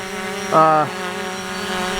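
A Fimi X8 SE drone hovers in flight with a steady propeller whine, a short louder burst of tones standing out near the start.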